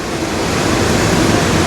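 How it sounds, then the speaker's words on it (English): Water churned up in a cruise ship's wake rushes past steadily, a continuous broadband wash of surf-like noise heard from the stern's open deck, with no voices. "You can see the water and the wake of the ship going by"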